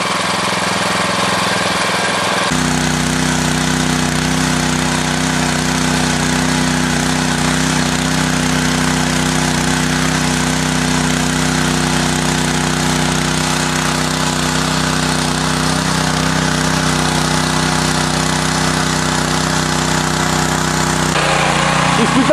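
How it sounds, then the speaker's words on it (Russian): INTERPOWER INT500 6.5 HP four-stroke tiller engine running steadily at close range, a loud continuous mechanical drone with a constant low hum held for over twenty seconds, no talking. "Четырехтактный двигатель."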